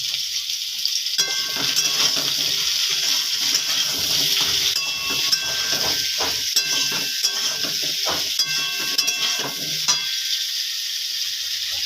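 A bata fish curry with drumsticks, potatoes and spices is stirred and fried in a pan, crackling and sizzling up close while a spatula scrapes and clinks in uneven bursts, with quieter gaps between strokes.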